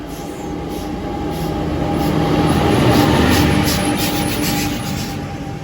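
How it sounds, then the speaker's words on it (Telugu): A passenger train hauled by a WAP-7 electric locomotive goes past as a loud, steady rumble of wheels on rails, swelling at the middle and then easing off, with a faint high whine above it. "వ్యాప్ 7 లోకోమోటివ్తో రన్ అవుతున్న ప్యాసింజర్ ట్రైన్."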